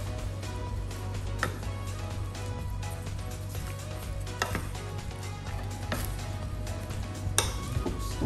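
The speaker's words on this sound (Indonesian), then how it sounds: "ini kita aduk ya sampai rata" Chicken marinade with chopped pandan leaves being stirred for fried pandan chicken, giving a steady run of close scraping and clinking with a few sharper knocks over a constant low hum.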